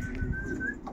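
Young racing pigeons in a loft give a soft, brief cooing call with a thin whistling tone, close and quiet over faint background rustle.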